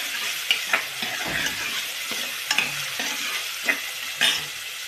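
Onion sautéing in hot oil with cumin for a spicy village-style mutton curry, a continuous close sizzle with a handful of sharp spatula scrapes and taps spaced through it, no voices.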